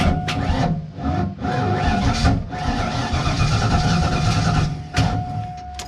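A Mustang engine cranking without catching, with the starter whirring in a continuous rhythmic churn that swells and dips for several seconds, close and fairly loud, with a faint steady whine under it.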